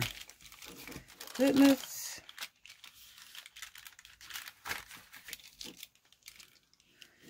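Paper being folded and creased for a collage planner journal, with brief crinkling and crumpling rustles close by, loudest in one burst and then softer scattered handling, under a short spoken word.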